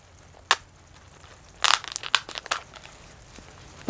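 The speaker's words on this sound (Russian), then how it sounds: "Сейчас я разрежу стаканчик." A plastic seedling cup being cut open around a cucumber seedling's root ball, giving a few sharp crinkling, crunching snips in short bursts, close and fairly quiet with no talk.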